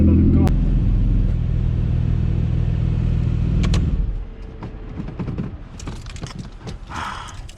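A 2014 Porsche Cayman S sports car drives with a deep, steady engine rumble for about four seconds, then the drone drops away to lighter road and cabin noise with occasional clicks and brief talk.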